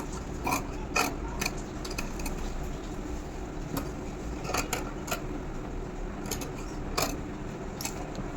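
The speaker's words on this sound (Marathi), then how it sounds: "आता आपण इथनं कट करायचं आहे फॅब्रिक." Scissors snip through blouse fabric and leftover canvas in a series of sharp, irregular cuts over a steady low background hum, close and fairly quiet, with no voices.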